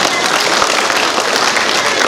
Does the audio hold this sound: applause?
yes